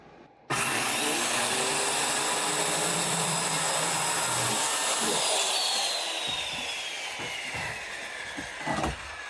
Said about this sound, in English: I'm gonna trim that with a circular saw up there.